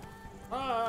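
Roach the horse galloping in The Witcher 3, a short run of steady hoofbeats heard under a voice.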